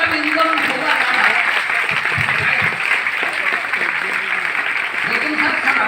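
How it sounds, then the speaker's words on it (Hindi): Loud applause from an audience at a Vestige training event, steady dense clapping throughout with voices talking and calling out over it. "जोरदार ताली के साथ उनको इनवाइट करें।"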